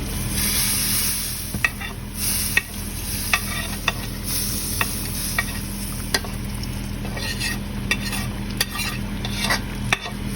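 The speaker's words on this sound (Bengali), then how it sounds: "রসুনটা আমি ডালে দিয়ে দিচ্ছি।" Garlic hits a pot of dal and sizzles steadily, with a spatula stirring and scraping in sharp, irregular clicks throughout, close and alone without any voices.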